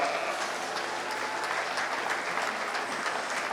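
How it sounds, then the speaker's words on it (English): Steady applause rises from the crowd at a 4-H sheep show, a dense, even wash of clapping heard from a short distance with no talk over it. "Let's give him a good round of applause"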